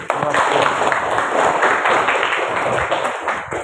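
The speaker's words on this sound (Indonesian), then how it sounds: "tepuk tangan dulu" Students applauding in a Grade XI social studies classroom, a steady dense patter of many hands clapping together for the whole few seconds, fairly loud and close.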